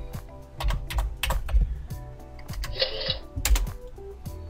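Quick, close clicking of keys on a computer keyboard, irregular bursts of taps with short pauses between, fairly quiet and without speech.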